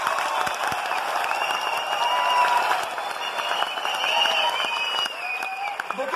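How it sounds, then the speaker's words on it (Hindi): An audience at a leadership training seminar in Mumbai claps in a loud, sustained burst of applause that fills the hall, with crowd murmur and faint voices mixed in. "ताली बजा सकते हो"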